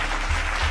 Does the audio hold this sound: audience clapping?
yes